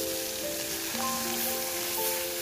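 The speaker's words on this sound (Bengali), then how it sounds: "মাছটা আমি তেলে ফ্রাই করে নিচ্ছি" Fish fries in hot oil, a continuous close crackling sizzle with a few faint tonal hisses, with no talking.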